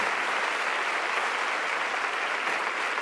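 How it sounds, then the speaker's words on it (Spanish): Sustained applause from a church congregation, a dense, even roar of many hands clapping together at moderate distance, without a break. "Démosle un aplauso."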